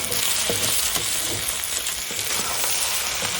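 Spicy field rat stir-fries with crispy pork in a hot pan, a loud continuous sizzle broken by repeated scraping and tossing strokes throughout.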